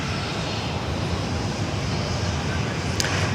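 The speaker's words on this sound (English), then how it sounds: "Here comes the Royal Australian Air Force Falcon 7" Royal Australian Air Force Dassault Falcon 7X jet at Sydney Airport, a steady broadband engine roar held throughout at moderate distance, with faint voices and background chatter underneath.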